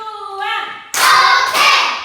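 Classroom of students clapping hands together in a counting rhythm game, a teacher's voice calling out first, then two loud bursts of group clapping close by.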